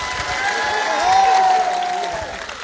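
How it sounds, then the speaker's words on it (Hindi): Crowd at an outdoor political gathering in Jalore applauds for Prime Minister Modi, a steady wash of clapping swelling briefly in the middle, with a sustained shouted voice ringing over it. "एक बार प्रधानमंत्री मोदी के लिए जोरदार तालियां होनी चाहिए।"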